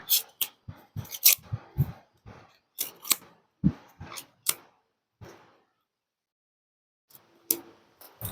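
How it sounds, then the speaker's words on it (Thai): Tarot cards being drawn and handled from a deck, a run of sharp dry snaps and flicks in quick irregular bursts, close and fairly quiet, then a pause before a few more clicks, with no talking. "หยิบไพ่ห้าใบค่ะ"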